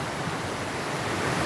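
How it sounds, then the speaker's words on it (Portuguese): Stream water at the Lajedo creek in Barra do Garças, Mato Grosso, rushes and splashes against a person's back, a steady broadband wash of close, continuous water noise with no voices. "É gostoso demais o jeito que essa água bate na gente aqui"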